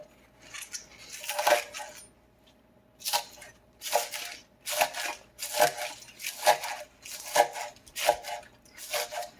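Knife chopping fresh pesto ingredients on a cutting board, roughly coarse cuts before food processing; a series of about seven crisp, evenly spaced chopping bursts, close and fairly quiet, with short pauses between strokes.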